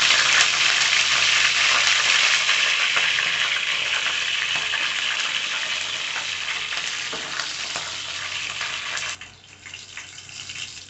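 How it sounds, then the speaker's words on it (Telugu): Curry leaves with green chillies sizzle steadily and loudly in hot oil for a prawn curry, a dense continuous frying hiss that eases slightly toward the end. "తర్వాత కరివేపాకు కూడా యాడ్ చేసుకొని ఫ్రై అవ్వండి."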